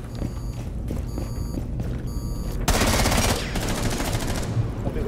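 Rapid automatic gunfire from the game Rainbow Six Siege rattles in sustained bursts, loud and close, with a brief lull before a denser, harsher volley takes over.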